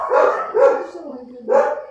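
Dogs barking nearby, three loud close barks in an uneven rhythm.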